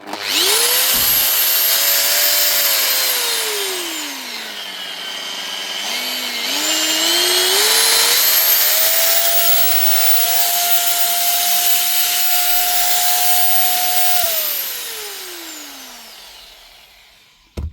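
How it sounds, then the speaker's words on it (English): A Bosch GWS9-115S angle grinder with newly fitted gears runs loud and close for a long stretch. Its whine winds down, dips and rises again, holds steady, then spins down near the end. "That should get your Bosch grinder running smooth again."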